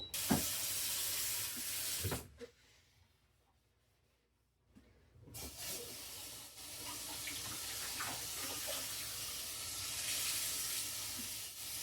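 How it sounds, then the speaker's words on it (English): Running tap water at a kitchen sink while dishes are washed, a steady close hiss and splash that stops for a few seconds and then resumes, with faint clinks of dishes. "now I'm going to get some of these dishes done"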